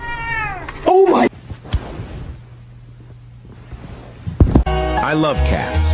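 A cat lets out a loud, close meow at the start and another drawn-out, wavering meow near the end, with a quiet stretch of low background noise between them.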